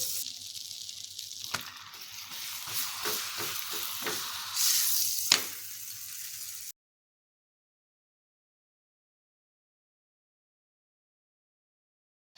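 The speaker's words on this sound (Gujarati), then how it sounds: "હવે આપણે જે રોટલી અધકચરી શેકી હતી એ આપણે અહીંયા બટર તવા ઉપર ગરમ થવા દઈશું ને ગરમ થાય એટલે આપણે એમાં શેકી લઈશું" Half-cooked roti frying in butter on a hot tawa, giving a steady close crackling sizzle with a few sharper pops for about seven seconds before it cuts to silence.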